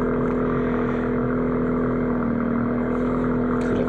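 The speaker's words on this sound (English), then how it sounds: "There's a big car in front of my window. That's a real big car." A big car's engine idles steadily just outside a window, a constant low droning hum with a faint whir, unchanging and moderately quiet throughout.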